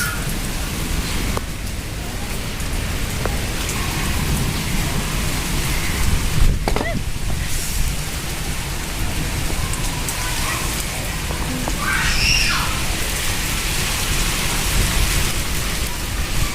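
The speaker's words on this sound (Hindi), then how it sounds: "हमारे यहाँ तो आ गई है बारिश।" Heavy rain pours steadily, a dense continuous hiss with some louder spatters, with faint voices briefly audible beneath it.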